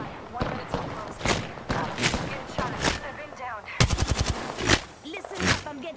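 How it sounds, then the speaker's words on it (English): Automatic gunfire in Apex Legends, with rapid bursts of shots including a sharp rattling volley midway, heard among game sounds and talking voices. "Listen up, I'm getting shot at."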